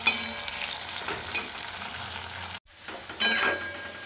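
Sliced onions fry in hot oil with a pinch of salt, a dense close sizzle broken by stirring scrapes and a brief pause before the crackle resumes.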